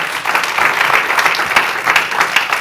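A church congregation applauds loudly for Jesus, a full, close burst of many hands clapping at a steady vigorous pace without talk.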